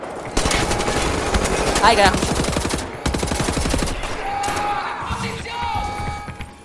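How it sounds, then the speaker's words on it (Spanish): Rapid automatic fire from a modern 1946-style assault rifle in Wolfenstein: The New Order, fast rattling bursts broken by short pauses, close and loud, with a brief shout over it. "la versión moderna del fusil de asalto de 1946. Tiene más capacidad de cargador y cadencia de fuego"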